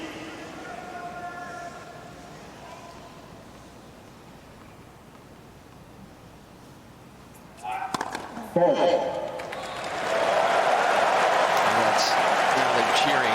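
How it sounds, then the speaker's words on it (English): Crowd at a US Open tennis quarterfinal between Djokovic and Fritz rising into loud, sustained cheering and noise after a quieter stretch, with a brief burst before the roar swells and holds. "Now they're cheering. The crowd is really getting involved."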